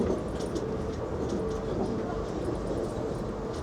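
Steady low rumble of a double-decker passenger train rolling through Europe, heard from inside a nearly empty carriage, continuous and fairly loud with faint rhythmic wheel clatter throughout.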